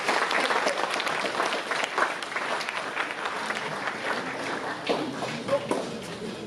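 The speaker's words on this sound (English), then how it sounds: "please give him a big round of applause" Steady applause from a conference audience for a speaker, dense clapping throughout with no pauses, moderately loud and slightly distant.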